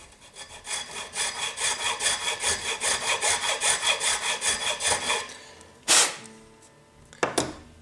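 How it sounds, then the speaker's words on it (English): A nut file rasps back and forth in the slot of a bone nut on an acoustic guitar, about twenty quick rhythmic strokes close up, followed by two sharp taps as the tool is set down. "I'm going to take the nut file and place it again"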